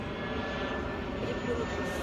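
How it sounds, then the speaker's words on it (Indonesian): An airplane drones overhead as a steady, broad engine roar across a university campus, with a faint voice speaking under it. "Ada pesawat."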